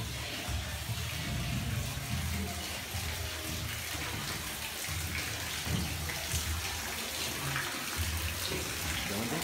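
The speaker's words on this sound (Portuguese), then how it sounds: "Tá pingando." Water drips and trickles steadily inside a chilly tourist cave, a continuous wet spattering close by with faint voices underneath.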